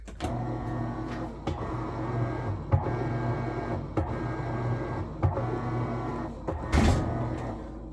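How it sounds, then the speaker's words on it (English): An Amana NTW4519JW2 top-load washing machine running on low agitation after a motor fix: a steady mechanical hum with rhythmic knocks and whirs at regular intervals, close and moderately loud. "Now that I've fixed the problem. That's low agitation."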